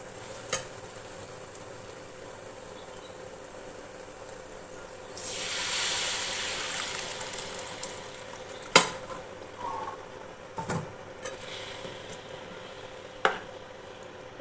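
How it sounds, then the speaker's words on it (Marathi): Spices for tempering hit hot oil with a sudden loud sizzle about halfway through, after a quiet stretch. The crackle fades into a low fry punctuated by sharp utensil clinks. "चरचरीत अशी खमंग अशी फोडणी बसते"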